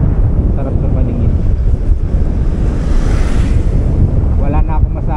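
Sea waves wash on the Dingalan coast while strong wind buffets the microphone, making a loud, constant rushing roar; a faint voice is heard near the end.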